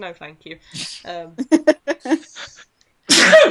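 A single sharp sneeze bursts out near the end, following a few seconds of close conversational speech among people in a radio studio.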